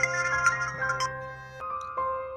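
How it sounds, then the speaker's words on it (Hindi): A phone ringtone in a Hindi Christian drama plays as a bright, steady electronic melody of sustained tones, fairly loud and close, with a short pause and a change of pitch partway through and no talking over it. "किसका फोन आ गया बेटा?"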